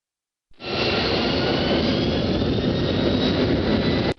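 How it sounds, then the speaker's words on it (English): Aircraft jet engines spooling up to full reverse thrust, a loud, steady broadband roar that starts abruptly after a short silence and holds constant until it cuts off, with no voices. "Now raise the reverse thrust levers to the full reverse position."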